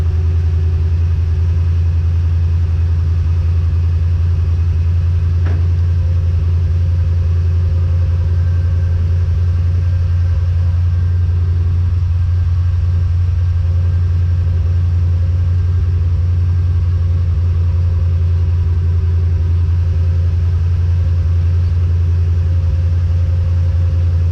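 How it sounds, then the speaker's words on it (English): A 1984 Chevrolet C10 truck engine runs steadily with a deep, even rumble throughout, loud and close, while the vehicle is being moved, with no talk over it. "you can hear me trying to move the car closer to the truck"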